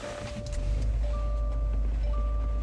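A 2021 Subaru Ascent Limited with captain's chairs is switched on: a low engine or electrical rumble swells up and holds steady, with faint chimes and no talking.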